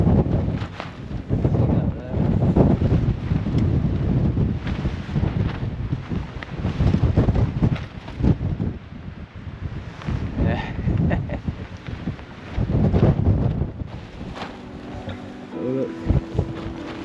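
Strong wind buffets the microphone at a chilly outdoor campsite where a Hilleberg Soulo Black Label tent is being pitched, a steady loud roar with gusts lasting the whole stretch.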